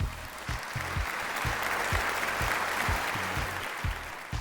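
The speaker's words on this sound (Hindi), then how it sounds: "मैं अपने जजेस को खुशामदीद कहता हूं भरपूर तालियों में।" An audience at a Pakistan Idol gala round claps in welcome of the judges, steady applause with sharp low thumps pulsing through it, lasting the whole stretch with no talking.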